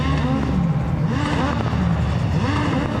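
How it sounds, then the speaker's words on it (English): A rallycross car engine revs repeatedly at World RX of Finland, rising and falling in pitch in quick bursts, loud and close with a rough, rasping tone. "He's revving the car up there"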